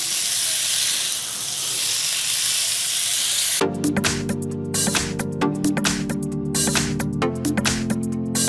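Mutton frying in a pan gives a loud, steady sizzling hiss for several seconds, then the sizzle drops away as rhythmic instrumental music takes over.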